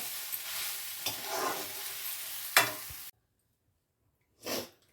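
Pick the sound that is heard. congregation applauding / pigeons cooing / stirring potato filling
stirring potato filling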